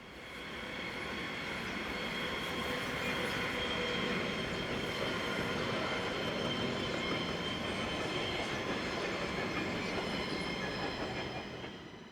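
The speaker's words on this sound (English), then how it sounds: "Our first freight train sees 484014, heading for Limmattal Yard" Swiss freight train 484014 rolls past on the Sargans to Zürich mainline toward Limmattal Yard, with a loud, sustained rumble, steady wheel noise and faint squeals that swell and fade over about twelve seconds.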